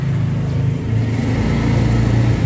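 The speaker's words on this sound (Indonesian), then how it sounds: "Ada motor ya." A motorcycle engine hums nearby at a steady mid pitch, its drone holding fairly even with a slight rise partway through, with no talking over it.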